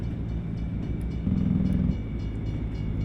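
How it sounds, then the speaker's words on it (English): Train rumbling past a truck in American Truck Simulator, heard as a steady low drone with a brief horn-like tone in the middle, no talk. "We're racing the train."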